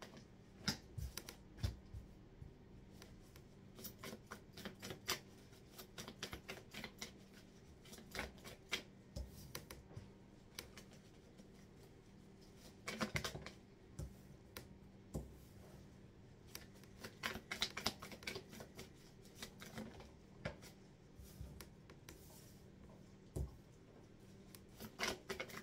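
Tarot cards are shuffled and drawn for a reading, giving quiet, irregular clicks, flicks and riffling rustles that come close together and pause at times over nearly half a minute, with no talk.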